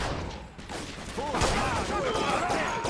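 Video game gunfire crackles in a dense, steady barrage, loud and close, with battle noise and effects layered throughout the short stretch.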